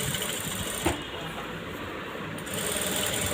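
A sewing machine stitches along the edge of a saree with a steady, fast whirring hum that briefly eases in the middle before running on again.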